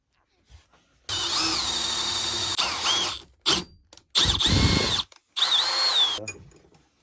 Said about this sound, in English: But first we should drill that out.